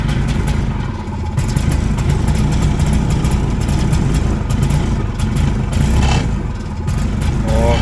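A three-wheel hot rod engine with a carburetor is running rough and loud at close range, idling unevenly with surging revs throughout.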